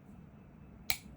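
A scored sheet of glass snaps apart under Silberschnitt running pliers, giving one sharp, close click over a faint steady background hum.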